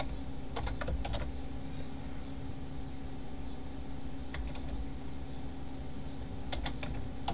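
Brief clusters of soft keystrokes on a computer keyboard, a few taps near the start, middle and end, faint over a steady room hum, with no talking.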